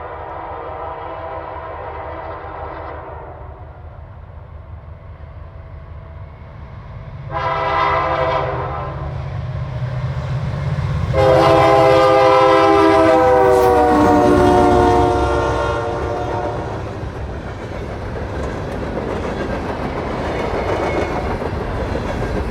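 Freight train led by an SD70M locomotive passing near Richland in winter, with loud repeated horn blasts sounding over the rumble of the engine and the steady clatter of cars rolling by close at hand.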